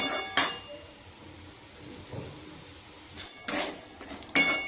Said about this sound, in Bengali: কাজু কিশমিশ সব সুজি টুজি সব সমেত দিয়ে ভালো করে এবার এটাকে নাড়বো